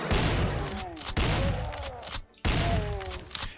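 Gunfire in the video game Doom as three shotgunners are gunned down, several loud booming shots in quick bursts, each with a sharp attack and a decaying rumble.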